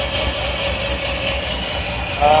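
A supercharged LSA V8 in a square body truck idles steadily with a dense mechanical drone and whine, loud and close, with a slight rise in level near the end.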